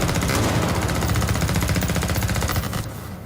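Rapid automatic gunfire in a military shooter video game, a long sustained burst of evenly spaced shots from a large-magazine gun, loud and close, cutting off near the end.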